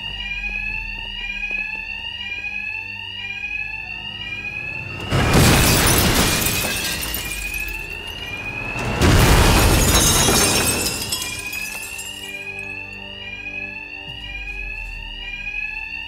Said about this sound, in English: these thugs can't hear a thing over the alarms